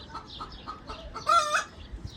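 A hen clucks softly in a few short calls, then gives a louder, drawn-out squawk before trailing off against a quiet outdoor background.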